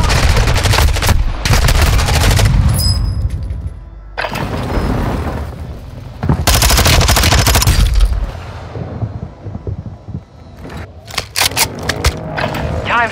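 Dense, loud automatic gunfire fills a Warzone 2.0 match in long sustained stretches, broken by short lulls and scattered single shots, with brief game voice callouts mixed in.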